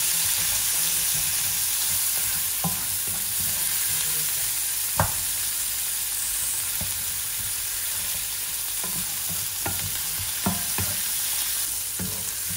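Tomatoes and onion sauté in a hot pan for bok choy with shrimp, a steady close sizzle with occasional stirring clinks and scrapes, no voices.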